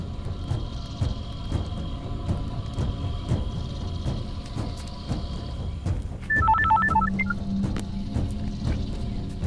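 A telephone rings unanswered in short repeated bursts over a steady background hum, with a brief electronic tone pattern partway through.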